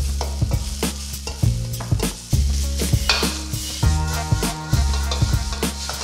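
Busy stir-frying of onions and peppers in a wok: continuous sizzling with repeated scraping and clanking of a utensil against the pan, loud and close.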